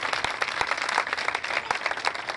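A church congregation applauding, with a steady crowd of many hands clapping in a dense, even patter that runs throughout at moderate loudness.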